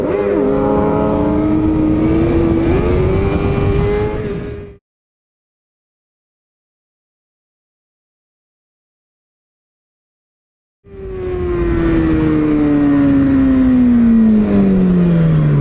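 Motorcycle engine revving hard as the rider pulls a wheelie at the end of a group ride, a loud close roar that rises, cuts out for several seconds, then returns with a falling pitch as it winds down.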